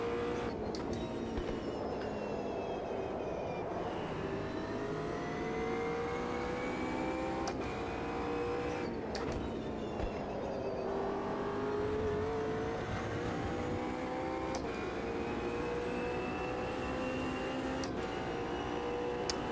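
A McLaren race car engine in the Automobilista 2 racing game drones steadily, its pitch rising through the gears and dropping sharply at shift points and braking, with a constant tone and no talk.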